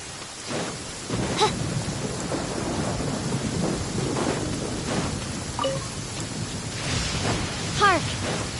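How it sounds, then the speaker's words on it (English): Thunder rumbles under steady rain in the video game Genshin Impact, a continuous hiss of rainfall broken by low rolling booms, while a character's voice speaks over it at moments. "Hark! 'Tis thundering retribution."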